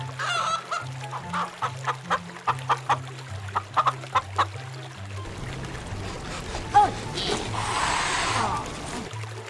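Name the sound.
chicken clucking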